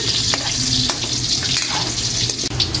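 Onions frying in a pan make a loud, close, steady sizzle with a few soft stirring scrapes.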